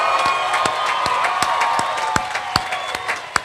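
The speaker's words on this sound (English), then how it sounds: "Please join me in offering a round of applause for all graduates in the class of" An audience at a 2019 graduation ceremony claps and cheers for the graduates, dense sustained applause with distinct individual claps and shouts rising from the crowd.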